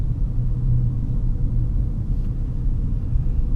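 Inside a Peugeot 2008 on the move, a steady low road rumble of tires with a soft wash of wind noise, constant and fairly loud throughout with no talking.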